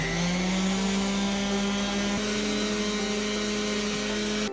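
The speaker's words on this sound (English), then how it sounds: "I'm going to use my orbital sander to speed things up a bit." An orbital sander with leftover sandpaper smoothing a PVC pipe for a kayak rod holder mod, a steady close motor whine with a droning hum that holds even throughout, with no voices.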